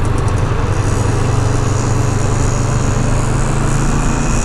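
CF Moto 650 NK BS6 motorcycle ridden in eco mode, a steady engine drone with rushing wind noise, continuous and close throughout without any break.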